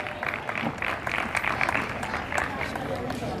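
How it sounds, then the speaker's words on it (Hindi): Steady applause from an audience at a church gathering, fairly close and continuous, with some crowd murmur mixed in. "आपकी भरपूर तालियों में।"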